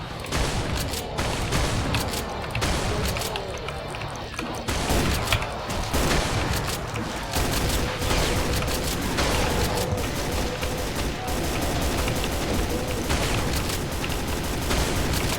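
Shotgun blasts and automatic weapon fire in Brutal Doom, a loud, dense barrage of shots and booms continuing for the whole stretch with no pause and no voices.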